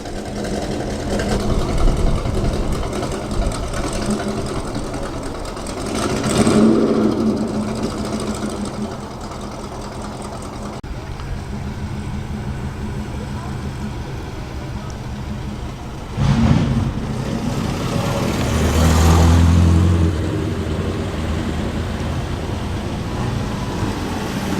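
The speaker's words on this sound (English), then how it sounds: "And the mighty Corvette, about 1971." A 1971 Corvette Stingray at a classic car meet at Heskin Hall, Lancashire, its engine rumbling and swelling in a couple of revs as it passes nearby amid outdoor crowd noise.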